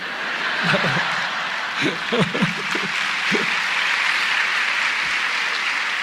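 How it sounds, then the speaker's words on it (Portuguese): Audience applause at a lecture-performance by Ariano Suassuna, a steady wash of clapping with scattered chuckles and laughter breaking through near the start, moderately loud and even. "vocês aplaudindo essas coisas aí"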